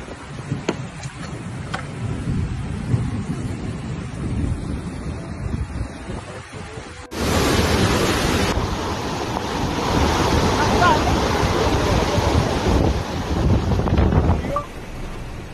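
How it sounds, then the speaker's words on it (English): Floodwater and mud rushing through city streets in Cantiano, a broad, roaring wash of water that grows louder and denser partway through, steady and close with wind-like noise. "The streets are flooded, the cars are dragged along by the river of mud and water,"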